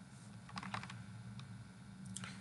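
Keys tap on a computer keyboard in a short burst, then a few isolated clicks. The sound is faint and close over a steady low room hum.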